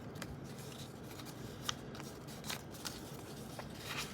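Paper being folded along pre-made creases for a paper airplane, close crisp rustles and sharp crinkling snaps at irregular moments over a steady faint background hiss, with no talk.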